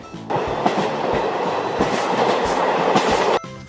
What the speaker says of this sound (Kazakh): Пойыз.